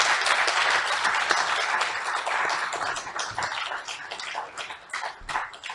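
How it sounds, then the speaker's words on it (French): Audience applause after a talk at a French conference on landscapes and the green aesthetic, dense steady clapping that fills the room and thins slightly toward the end. "les applaudissements parlent d'eux-mêmes"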